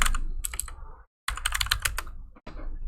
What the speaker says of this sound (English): I'm going to type in siding